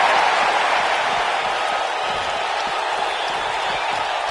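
An arena wrestling crowd roars and applauds steadily for Xavier Woods as he showboats, a dense, continuous wash of cheering with no lulls.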